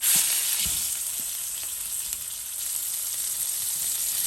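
An Impossible meat patty seasoned with burger seasoning and ground pepper sizzles steadily in a hot pan after being flipped, with a constant close crackle and a few soft knocks at the start.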